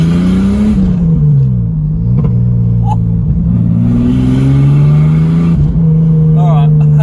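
Six-cylinder 4-litre car with a T5 manual gearbox revs steadily with a rising and falling engine drone, loud and close, as it climbs and shifts, with a brief dip partway through.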